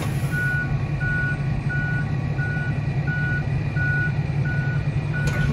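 Truck with a trailer reversing during a driving test, its backup alarm beeping steadily about eight times over a loud continuous engine rumble.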